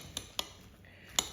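Three sharp metal-utensil clinks against a dish while mixing fish with pineapple salsa ingredients, spaced irregularly over a quiet background, with the last tap loudest.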